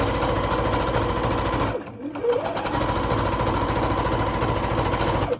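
A sewing machine runs steadily, stitching around the hem of a piece of fabric, then stops briefly and starts again. The motor keeps a fast, even whir, close and loud, with no talk over it.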